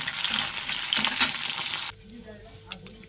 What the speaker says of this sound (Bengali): ঢেঁড়সটাও প্রায় ভাজা হয়ে গেল, এবার আমি তুলে নেব।